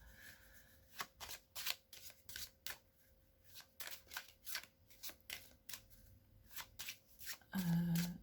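Tarot cards shuffled and drawn by hand, a run of crisp riffling snaps and slaps repeating through the whole stretch, close and fairly quiet, ending with a louder rustle and a short low thump.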